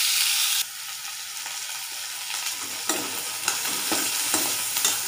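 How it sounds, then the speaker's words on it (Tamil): Shallots sauté in hot oil in a pan, a steady bright sizzle with scrapes of stirring that grow more distinct toward the end, close and fairly loud, with no voices. "சின்ன வெங்காயம் நல்லா பொன்னிறமாக வர வரைக்கும் வதக்கி எடுத்துக்கலாம்"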